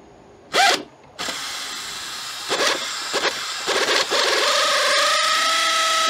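A socket wrench works on a cylinder head bolt of a Hyundai Accent, giving short ratcheting clicks followed by a steady mechanical whir toward the end, close up in a quiet workspace.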